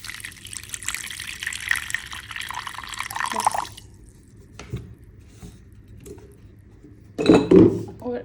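Water pours and trickles into a pot in a hostel room, a clattering, splashy run for a few seconds, then quiet drips and a brief louder metallic clink of the pot near the end.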